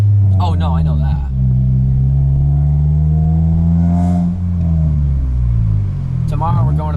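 A 2003 Honda Civic EX coupe with a manual transmission and loud aftermarket exhaust drones steadily up close, its low harmonic rumble rising and falling with the throttle. Brief speech is heard at the start and end.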